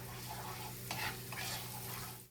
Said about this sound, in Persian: تا این سیرا سرخ بشه